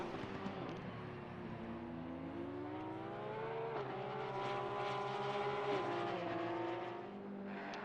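The number 58 Porsche race car engine in the video game Assetto Corsa Competizione at Kyalami drones steadily and loudly, its pitch climbing and dipping through gear changes, with no voices.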